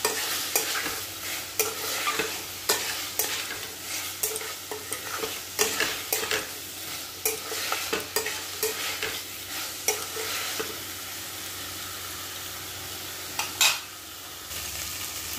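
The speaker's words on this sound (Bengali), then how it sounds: "দিয়ে দিয়েছি ফুলকপি আলু, এরপর এটাকে একটু ভালোভাবে কষিয়ে নেব" Cauliflower and potatoes stir-frying in spiced masala, with a steady sizzle under repeated sharp scrapes and knocks of a spatula against the pan, close and alone.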